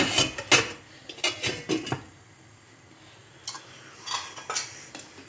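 A metal lid set onto a pot of tarhana soup in a home kitchen, giving a series of light clinks and clatters in two bursts with quiet gaps between, close and fairly soft.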